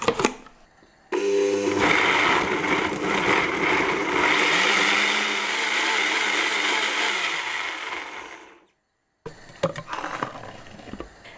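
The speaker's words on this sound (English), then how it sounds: "And then I'm just going to blend it up." A kitchen blender whirs loudly and steadily for several seconds, pureeing red pepper chutney seasoned with ground cumin and salt, then stops, followed by faint clatter.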